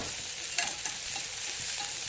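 Onion frying in a pan with curry leaves and green chilli gives an even, hissing sizzle, with faint occasional clicks from stirring.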